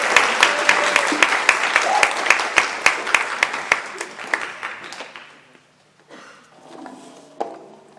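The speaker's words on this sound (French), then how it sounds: "Je pense qu'on peut l'applaudir." A small audience at a French speaking contest applauds in sharp, distinct claps that thin out and fade over several seconds, leaving a few scattered claps and faint murmurs near silence.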